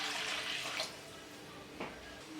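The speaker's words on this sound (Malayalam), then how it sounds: "ഇതിലേക്ക് 2 കപ്പ് വെള്ളം ഒഴിച്ചു കൊടുക്കണം." Water pours from a cup into a pan on a stove for making pineapple kesari, a soft steady splashing stream with a brief louder gush near the end.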